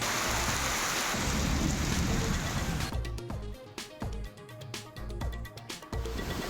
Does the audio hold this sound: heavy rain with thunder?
yes